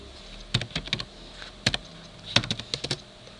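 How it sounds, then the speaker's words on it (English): Keys on a computer keyboard are tapped in quick, irregular bursts of clicks with short pauses between, close and clear with no talking. "I must have typed that in wrong"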